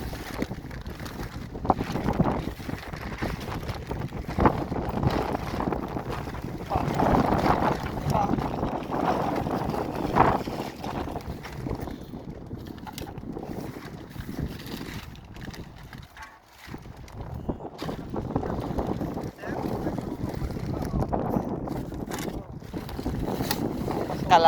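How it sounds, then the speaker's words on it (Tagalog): Gusty wind buffets the microphone in a steady broadband roar while fishing in Salmiya, Kuwait City, with water and boat noise underneath and brief lulls. "Ano yan, mahangin ngayon ha."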